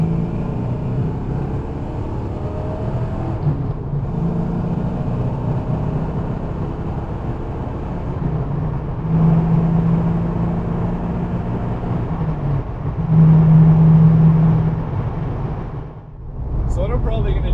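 A 1990 Ford Mustang GT Fox body with a freshly swapped transmission drives along a stretch of road, its engine droning steadily as it rises and falls through the gears, with two brief louder pulls late on and a short dip near the end.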